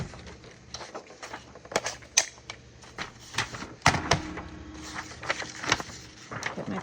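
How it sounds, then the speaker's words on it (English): A paper trimmer slices paper for junk journal ephemera in a quiet crafting room, giving several short, sharp clicks and scraping snaps from the blade and mechanism, with faint rustling of paper between them and no talking. "let's do that with our trimmer"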